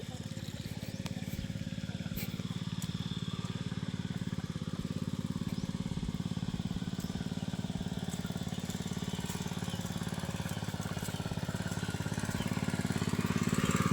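A water pump engine runs steadily outdoors near a rice field, a loud continuous drone with a rough low throb that holds even throughout and swells slightly at the end.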